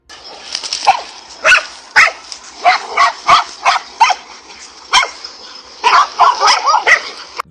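Several dogs barking and yelping fiercely while fighting a cobra, attacking from different sides; loud, close, overlapping barks in rapid, irregular bursts throughout.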